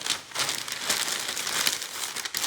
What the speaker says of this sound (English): and crumple it up into a kind of head